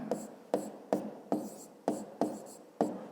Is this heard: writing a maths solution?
yes